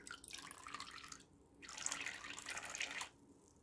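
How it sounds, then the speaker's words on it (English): A small toy dolphin squirts water it has sucked in, making short bursts of spraying and dribbling water broken by brief quiet gaps. The squirts are faint and close by. "He's gonna blow some bubbles and suck in some water and blow that water out."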